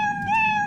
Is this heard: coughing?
no